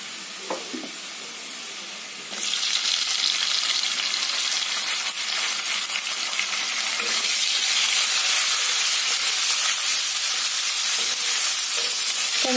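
Tomatoes added to onions already frying in a pan set up a loud, steady sizzle and hiss that swells after a couple of seconds and holds strong to the end, with faint stirring scrapes.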